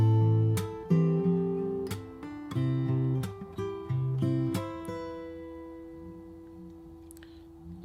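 Fingerstyle acoustic guitar picks the opening two bars of a song, with plucked bass notes and melody forming a steady arpeggiated pattern, then a final chord left ringing and fading, close and solo.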